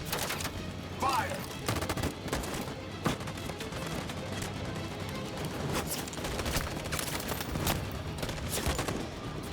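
Soldiers open fire in Detroit: Become Human, a rapid fusillade of overlapping gunshots and bursts that crack repeatedly over several seconds, mixed with game noise and voices.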